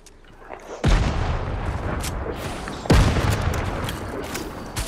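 Gunfire in the Fortnite video game, two heavy, booming bursts of shots about two seconds apart, each followed by a dense, sustained crackle of fire at close range, with no talk.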